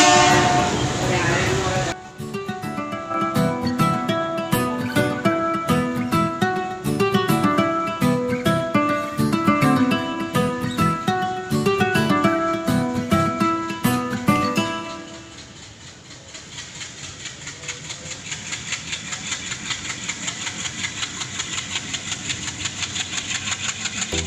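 A train rumbles at a railway station on the Shoranur–Nilambur line in Kerala, with loud rhythmic clattering for some seconds, then a steady engine hum with pulsing beats.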